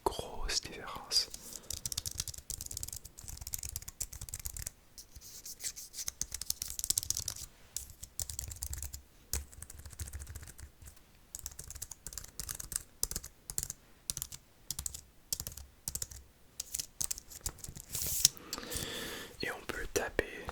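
Close, soft typing on a comfortable computer keyboard in a quiet room, rapid irregular key clicks with brief pauses, accompanied by low whispering.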